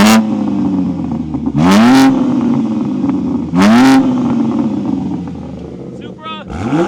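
A Toyota Supra with a new exhaust revs hard twice, each blip a sharp rising howl settling into a loud idle burble, then a quicker third rev near the end; a voice shouts over it.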